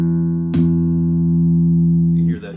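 A Ken Smith 5GN five-string bass in imbuia with neck-thru construction rings out with its tone knob rolled back, giving a dark, muffled sustained note that is struck once, holds evenly and is then cut off.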